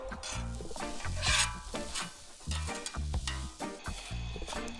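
Chopped onion and mushrooms sizzle loudly in a hot pan outdoors in Latvia, with a steady frying hiss broken by rhythmic scraping stirs every half second or so, close up and without voices.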